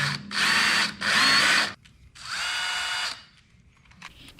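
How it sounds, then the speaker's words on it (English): A power drill with a 5/64 bit bores a hole in the end of a beam in three loud whirring bursts separated by short pauses, then a quiet tail. "I drill a hole at the end of the beam with an undersized drill bit"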